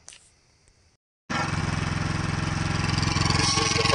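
Predator 3500 generator, new 2024 model, starting on its first run: a few faint sounds, a brief hush, then the engine catches abruptly and settles into a loud, steady close-up running drone.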